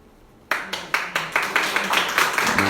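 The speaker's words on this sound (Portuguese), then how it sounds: "Cuidado com essas palmas" An audience at a spiritist lecture claps rapidly and unevenly in a sustained burst that starts abruptly after a quiet moment and stays loud until the end.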